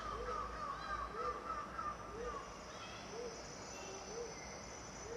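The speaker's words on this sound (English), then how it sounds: "Oh, you can hear the birds sound." Birds calling in a dense Papua forest, a series of short repeated chirps and whistles rising over a steady background of insect-like hiss and rustle, moderately distant and fairly quiet.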